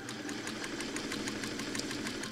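A black sewing machine stitches pieces of a scrap quilt block, a rapid, even needle chatter over a motor hum, close and steady throughout with no voices.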